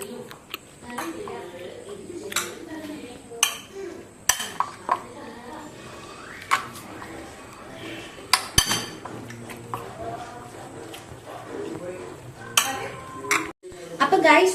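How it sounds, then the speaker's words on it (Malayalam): Pasta being stirred with salt in a pot in a home kitchen, with intermittent scraping, clinks and knocks of utensil against the pot, moderately quiet, under a low background hum. "നമുക്ക് ഇതൊന്ന് നന്നായി ഒന്ന് മിക്സ് ചെയ്തെടുക്കാം."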